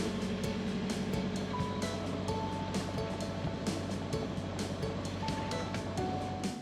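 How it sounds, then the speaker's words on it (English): A sailboat motors under engine power across the Gulf on an overnight passage from Venice, Florida to Key West, a steady low engine drone mixed with water wash and rushing, recorded at a distance and fairly faint. "we're using the engine because 3 knots of wind won't get us anywhere"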